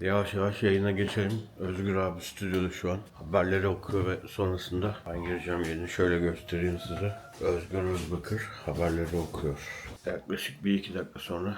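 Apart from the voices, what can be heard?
No distinct noise like a dog, phone or traffic.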